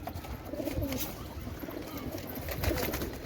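Pigeons are let out of their loft ahead of a flying tournament, cooing softly with low fluttering thumps close by over a steady background hum.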